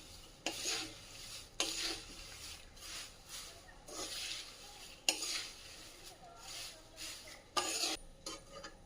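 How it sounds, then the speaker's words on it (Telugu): Two spoons stir and toss poha in a bowl, giving repeated scraping, rasping bursts at an irregular pace, fairly faint against a quiet kitchen background. "ఇట్లా 2 స్పూన్లతోటి కలుపుకుంటే ఈజీగా అవుతుంది"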